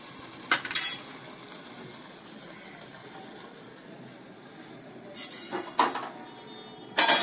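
A spoon stirs stuffed brinjal curry in a pan over medium gas, several sharp metallic scrapes and clinks spaced over a low background hiss.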